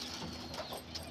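Soft, low pigeon cooing, faint and brief, with a gentle murmuring rhythm close by.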